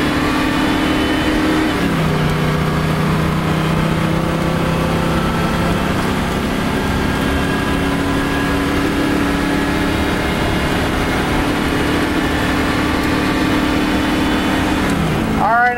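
A 2004 Winnebago Brave RV with a Workhorse Chevy engine, accelerating at full throttle up an interstate on-ramp: a steady loud engine drone rising in pitch, dropping briefly at a gear shift, then climbing again with road noise.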